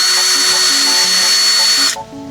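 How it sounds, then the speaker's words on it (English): Cordless power drill boring mounting holes while installing RV gear, a steady high whine running loud and close for about two seconds before cutting off abruptly. "Couple of more holes to drill."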